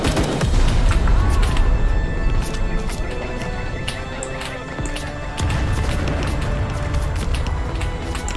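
Blind firing in the Vietnam War game Call to Arms Vietnam, with dense, continuous rattling gunfire and heavy impacts thumping throughout amid loud battle noise; no clear talking.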